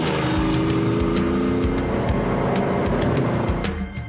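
Racing engine of a recreated 1958 Vanwall Formula One car, a loud, steady, raspy drone held throughout with slight rises in pitch, dropping a little at the end; no talking.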